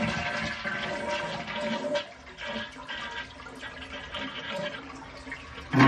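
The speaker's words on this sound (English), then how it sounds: "and then flush the toilet." A household toilet flushes, with rushing, gurgling water that swirls down and then settles into the hiss of the tank refilling after its shut-off valve was closed, near and fairly loud, ending in a brief clunk.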